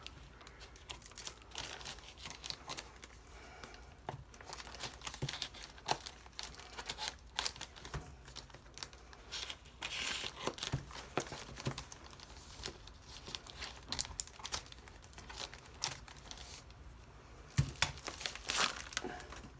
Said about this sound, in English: I'm actually going to go below the tape here because I know it's in a box and just cut through the packaging here